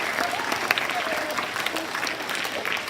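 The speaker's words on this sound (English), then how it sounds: "let's have a round of applause for these staff members" A middle school assembly audience applauds staff members with steady, dense clapping that lasts throughout, with a few voices mixed in.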